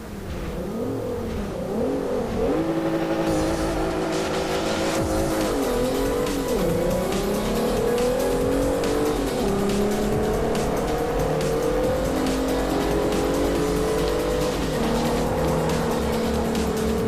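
Race cars in Forza 4 accelerate off the start with rising engine howls, repeated gear changes and squealing, skidding tires, loud and continuous with no voices.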